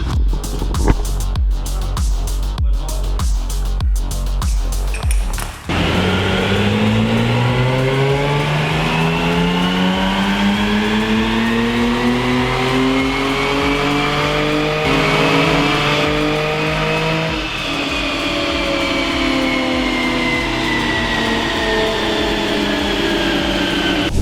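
A Jaguar XE on a dyno idles with a ticking rhythm, then revs hard in long, rising sweeps, the loud engine note climbing steadily, dipping and climbing again with no voices.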